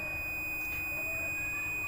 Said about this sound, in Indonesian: Maka akan secara otomatis alat akan membunyikan indikator alarm dan akan menghidupkan LED warna merah.